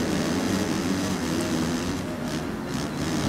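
Motocross bike engine held at steady throttle through a corner in the MXGP3 racing game at Valkenswaard, a continuous loud droning buzz with no break for the whole stretch.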